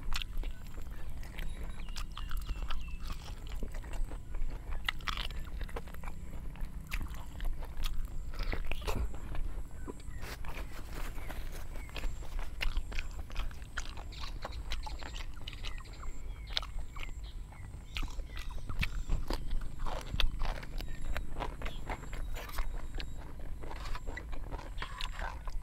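Whole braised pork leg (kha pa lo) bitten and chewed in big mouthfuls out in a rice field, with steady close crunching, tearing and wet mastication continuing for the full length, no talk.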